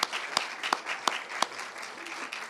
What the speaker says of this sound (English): Let's give a big round of applause for all of you that went out for the walk and are here today.